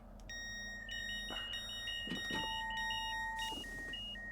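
Electronic beeps and alarm tones sound inside a train cab in Train Sim World 4 on the South Eastern High Speed line: a steady pattern of high repeated bleeps, with a longer sustained tone partway through over a constant low hum.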